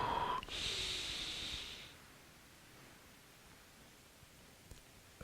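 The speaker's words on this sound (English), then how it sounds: "Breathing in and all the way down." A slow, audible inhale during a guided breathing and movement exercise, a soft airy breath in lasting about two seconds, fairly close, then fading into quiet room hiss.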